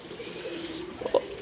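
Pigeon cooing close by, a couple of short soft coos near the end over a faint background hum.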